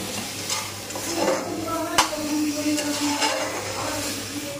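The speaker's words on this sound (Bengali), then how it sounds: "এবারে একটু সময় ধরে মশলাটাকে ভেজে ভালোভাবে কষিয়ে নেব।" Spice paste frying in a pan for an egg and potato curry, with a steady sizzle and repeated stirring and scraping up close, and no talking.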